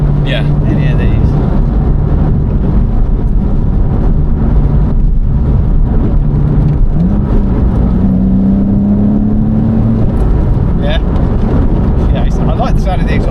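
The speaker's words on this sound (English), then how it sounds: "I like the sound of the exhaust" Exhaust of a Porsche 987 Boxster or Cayman as it accelerates, a loud, steady low drone with a rising engine note partway through, heard from the cabin alongside occasional talk.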